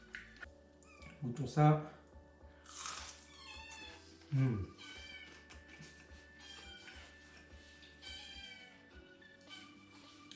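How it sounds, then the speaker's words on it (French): A pet cat meows twice indoors, a loud close cry near two seconds in and another shortly after, while a person talks over a quiet background. "J'ai mon chat qui miaule."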